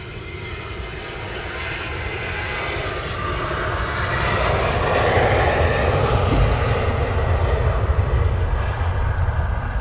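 A Wizz Air airliner departing Luton Airport in the early morning, its engine roar building steadily louder over several seconds into a sustained, heavy rumble, with no voices.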